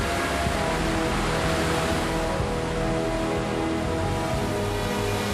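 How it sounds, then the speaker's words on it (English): Rough ocean waves roiling and churning as grease ice forms on the surface, a steady broadband wash of surf with a constant low rumble, no distinct breaks, and no voices. "The ocean is roiling"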